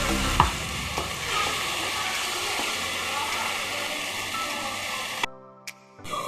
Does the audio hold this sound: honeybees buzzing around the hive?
no